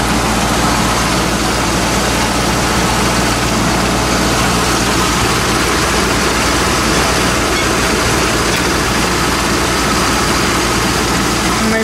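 A Ford F150 engine with a DEQ carburetor idles loud and close in a steady, continuous low rumble that holds unchanged throughout.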